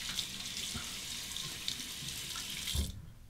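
A tap runs in a steady, close hiss while a Muhle R89 safety razor is rinsed under it, the flow cutting off abruptly just before the end with no talking.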